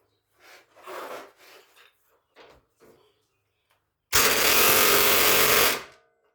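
An impact gun on the tie rod of an R32 GTR fires one loud, harsh, rattling burst lasting about a second and a half, preceded by a few quiet knocks and shuffles.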